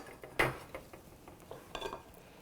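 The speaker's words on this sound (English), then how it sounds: "I'm using kind of a folding motion to fold over and then mix" Spatula or spoon folding butter into cake batter for a raspberry ricotta cake, giving soft scraping and knocking strokes against the bowl, one sharp clatter then quieter swishes, close and fairly faint.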